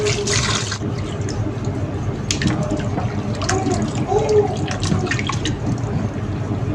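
Raw chicken meat being washed under a running tap, with steady splashing water, drips and hand movements in the bowl, close and continuous, with brief clatter at times.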